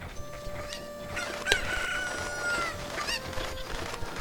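A Cucco crows in Zelda Ocarina of Time, a few clucks and crowing calls over game background sound, fairly faint and intermittent.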